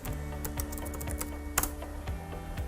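Quick keystrokes on a computer keyboard as a search query is typed, a close, irregular patter of clicks with one sharper tap near the middle, alone and without talk.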